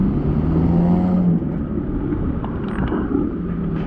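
Steady rumble of city traffic with a passing engine, a continuous loud low drone swelling and fading slightly, no talking.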